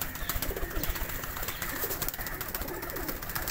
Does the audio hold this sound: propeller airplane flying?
no